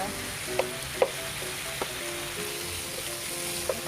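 Chicken pieces frying in their own rendered fat in a pan, a steady close sizzle with a few sharp pops and crackles spread through it.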